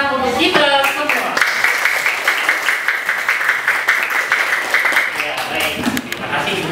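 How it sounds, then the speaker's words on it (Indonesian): Group clapping and cheering at a morning teacher training session, steady and loud throughout with voices mixed in over the claps. "beri tepuk tangan untuk kita semua"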